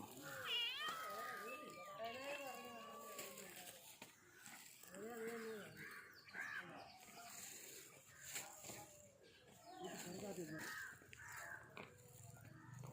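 Several pet cats meow repeatedly at close range, drawn-out cries coming one after another across the whole stretch.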